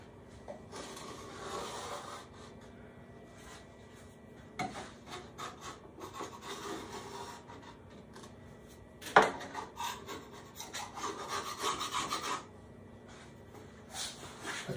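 An old putty knife scrapes excess glue off olive burl wood in a series of close, raspy strokes of varying length, with one sharp scrape partway through.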